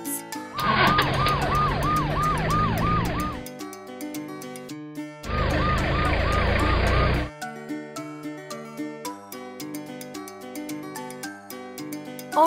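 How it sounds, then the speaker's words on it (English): A toy ambulance siren sounds in two loud bursts of rapid warbling yelps, separated by a stretch where only bouncy children's music continues in the background. "Orange, ambulance."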